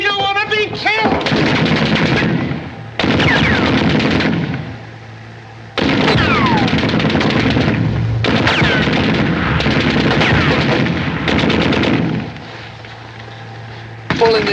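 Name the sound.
machine gun fire in a 1941 Laurel and Hardy film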